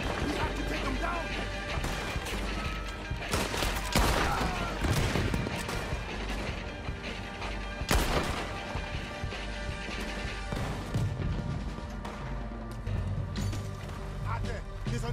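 Rapid bursts of Red Dead Redemption 2 gunfire and explosive impacts crackle during a battle against an army, over a busy, dense soundscape, with people talking throughout.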